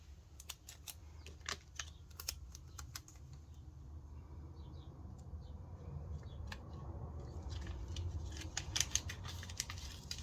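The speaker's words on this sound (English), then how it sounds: "I'm just going to put a little bit of washi tape on there to cover that little spot there." Washi tape is cut and pressed down while working on a 5D diamond painting, giving repeated sharp snips and short crackles, close and fairly faint, over a steady low background hum with no talking.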